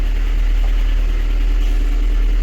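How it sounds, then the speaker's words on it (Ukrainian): A VAZ 2108 fuel-injected car engine idles steadily at close range, a constant low rumble with a slight vibrating hum and no talking. "ось так працює наш двигунчик"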